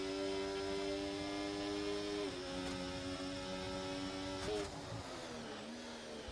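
Formula 1 car engine in an F1 racing video game, Azerbaijan round: a steady, high-pitched whining drone that dips in pitch briefly around gear changes, continuous and moderately loud with no talking.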